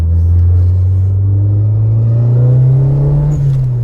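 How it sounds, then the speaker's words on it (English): Loud, close rumble of a modified turbocharged Toyota Celica All-Trac engine under steady load on a curvy road, its droning pitch slowly rising, with a faint brief blow-off valve hiss near the end. "This thing makes great turbo noise."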